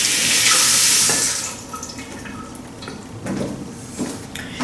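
Running water rinses a jar of cultured vegetables, a strong rush from the tap at first that eases into softer splashing and trickling, close by with no talking.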